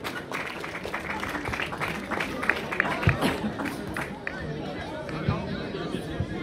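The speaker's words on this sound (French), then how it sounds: "on peut les applaudir encore très très fort" An audience at a youth football club gathering applauds the team, steady dense clapping blended with crowd chatter and murmuring voices throughout.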